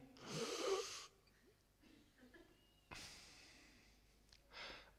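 A person doing a breathing exercise while singing, with two loud airy inhales, one early and one near the middle, and a softer breath near the end, heard close up between quieter gaps.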